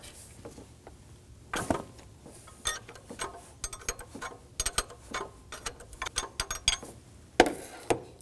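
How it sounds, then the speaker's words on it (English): A 19mm wrench loosens a high-pressure fuel line nut on a fuel pump of a 2017-2024 Nissan Armada with the 5.6L V8, giving close, irregular metallic clicks and ratcheting ticks that come steadily for several seconds with no voices. "We're gonna start by taking off this fuel line using a 19mm wrench."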